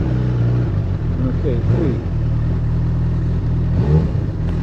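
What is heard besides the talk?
Honda CB1000R motorcycle engine revving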